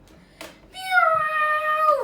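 A cat gives a single drawn-out meow lasting about a second, clear and close, with a falling tail, after a short faint sound just before it.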